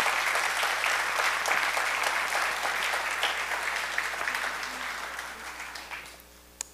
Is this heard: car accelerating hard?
no